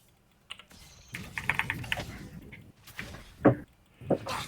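Computer keyboard keys hammered hard during a gaming session: close, loud clacks arriving in irregular quick bursts separated by short pauses.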